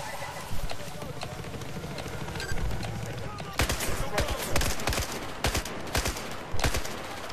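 Gunfire in the shooter video game Battlefield 4, with a busy battle din that breaks into a string of sharp, close shots in irregular bursts during the second half.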